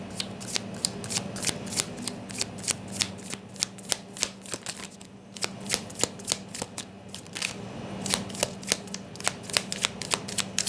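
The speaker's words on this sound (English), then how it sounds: "as I shuffle" A deck of cards being shuffled during a tarot-style reading: crisp, close riffles and snapping clicks in irregular bursts over a low steady hum, with no talking.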